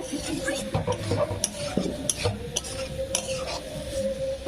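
Spiced masala for a chickpea curry is stirred and sautéed in a pan over high heat. A continuous low sizzle runs under frequent metallic spatula scrapes and clinks.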